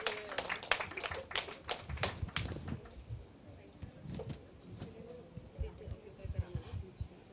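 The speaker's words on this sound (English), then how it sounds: "Ladies and gentlemen, a big round of applause for Team ISA 2021-22." Audience applause at an award ceremony during an annual day celebration, a dense burst of clapping in the first three seconds that thins into scattered claps and crowd murmur.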